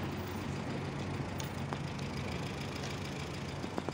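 A car engine idles with a steady, low, even rumble after a gas cap fix cured a shaky idle, a few faint clicks and taps over the top.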